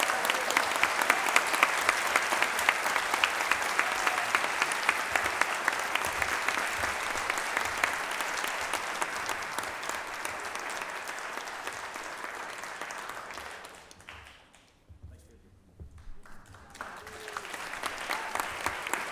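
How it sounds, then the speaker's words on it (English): An academic convocation audience gives sustained, even applause that fades briefly near the end before picking back up, with no voices over it. "give our recipient, Mr. Muhammad Ali, a great round of applause"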